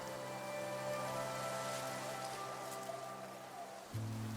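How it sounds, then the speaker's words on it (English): Steady rain hisses down in the video game Infinity Nikki, an even continuous wash of falling drops, soft and unbroken, with faint musical tones beneath. "The rain showed no mercy."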